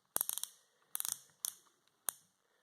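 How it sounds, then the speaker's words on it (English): The torque-setting collar on a Mastercraft Maximum 18-volt Ni-Cd cordless drill is turned by hand, giving quiet clusters of quick ratcheting clicks, then a few single clicks, close up and faint. "Then you can adjust your different torque settings."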